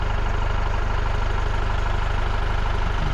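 A tractor engine idles close by with a steady, pulsing low rumble that holds an even rhythm throughout, with no talking over it.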